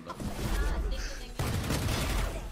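Gunfire from the video game Valorant crackles in quick bursts under Turkish voices talking during play, with a sharper burst partway through, then continued shots and game noise beneath the chatter.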